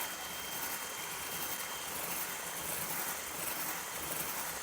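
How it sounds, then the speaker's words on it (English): An electric whisk runs on low through egg whites with lemon juice, a steady even whirring hiss, faint and constant with no pauses. "To put that in whilst whisking on low."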